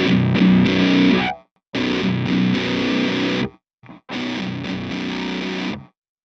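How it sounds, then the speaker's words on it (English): Electric guitar through an EarthQuaker Devices Sunn O))) Life Pedal V3 distortion with octave, playing three sustained, heavily saturated, bass-heavy compressed chords, each cut off abruptly, loud and close with no talking. "symmetrical clipping, which is going to give you probably the truest form of a Proco Rats distortion"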